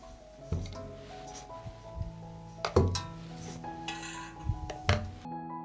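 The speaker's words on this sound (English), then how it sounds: "I put the jars in the pot." Several glass jars are set down one after another into a deep cloth-lined pot, giving dull clinks and knocks with some ringing glassy tones, close by and uneven in rhythm, with no voices.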